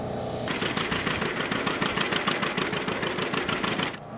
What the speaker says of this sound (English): when you're out in the field and you hear a John Deere running, the popping of it, it's a unique sound